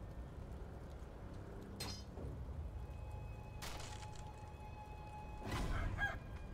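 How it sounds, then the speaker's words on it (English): Giant roosters in the video game Sekiro: Shadows Die Twice crow in a few short, sharp bursts spread across a quiet background, with the last call the loudest. "Why are there so many giant roosters?"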